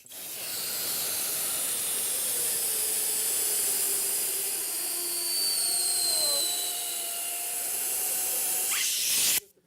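A balloon deflating, air rushing out in a loud continuous hiss with faint squealing whines for about nine seconds before stopping abruptly.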